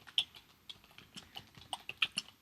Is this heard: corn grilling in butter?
no